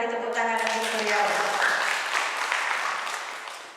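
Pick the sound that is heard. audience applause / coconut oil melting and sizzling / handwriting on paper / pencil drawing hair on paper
audience applause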